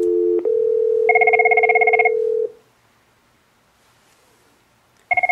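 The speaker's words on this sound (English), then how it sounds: "you can dial the digits, and then hit the call button" A school desk phone gives a steady, loud dial tone for about two seconds, overlapped midway by a warbling electronic tone burst, then falls silent before another short warble cuts in at the end. No one speaks.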